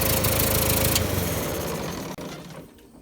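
A Ford Select-o-Speed tractor engine runs steadily at idle, its carburetor due for cleaning, giving a continuous rough mechanical drone that fades somewhat toward the end, with no talking.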